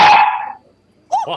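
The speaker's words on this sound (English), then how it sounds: "That's my dog. He wants to participate." A dog gives a single loud, close bark, then a short silence before a second, higher bark-yip begins.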